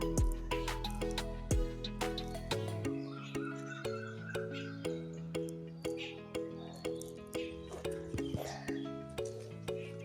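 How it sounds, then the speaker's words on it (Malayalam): Birds near a feeding spot cry out in loud, harsh caws, repeated in a steady rhythm of calls throughout, close by and clear. "കിളി കിടന്ന് കരയുന്നു."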